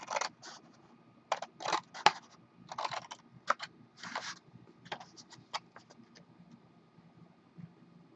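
Scissors cut out a paper piece for a small note keeper craft, producing close, crisp snipping bursts in irregular clusters that thin out toward the end, with quiet gaps between.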